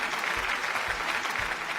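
Studio audience clapping on a Malayalam game show for Mammootty fans, a dense, even burst of many hands clapping together throughout, fairly close with no talk over it.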